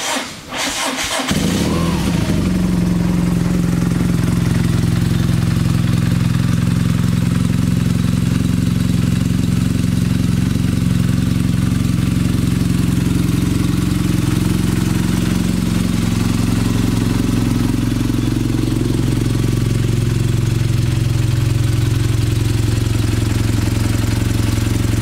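A 2016 BMW R nineT motorcycle engine cranks and fires up, then settles into a loud, steady idle with a deep, even rumble that continues throughout.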